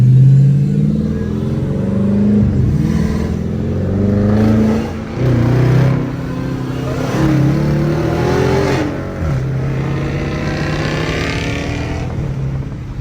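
A Dodge Charger R/T cruising at night, its engine droning steadily from inside the car with deep rumbling swells as it accelerates and eases off, loud and continuous without talk.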